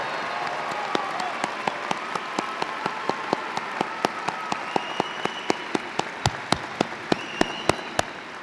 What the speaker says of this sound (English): So join me in a huge round of applause for the hard work and success.